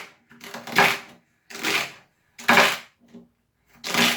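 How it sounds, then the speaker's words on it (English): Knife chopping fresh celery for juice on a cutting board: crisp, close crunching cuts come in separate bursts about once a second, with short quiet gaps between strokes. "you just need to cut up the celery"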